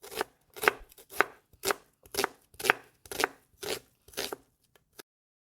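Peeled fresh carrots are sliced with about nine crisp, evenly spaced chops on a board, close and clear, with no other sound between the cuts.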